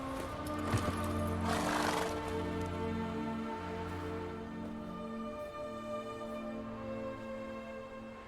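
A horse whinnies and snorts nearby in The Witcher 3 video game, with hoof sounds and a soft musical background underneath.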